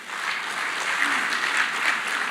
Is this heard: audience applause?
yes